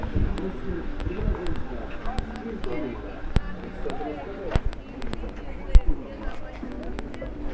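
Pigeons coo softly at a feeder on a square in Truskavets among street noise, with occasional sharp clicks and taps and a faint voice in the background.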